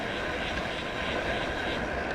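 A plane passes overhead during a winter bike ride in Dorset, heard as a steady broadband roar mixed with wind and road noise, constant and moderately loud throughout.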